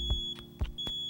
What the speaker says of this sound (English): When testing your smoke detector, you want to make sure that you push the test button.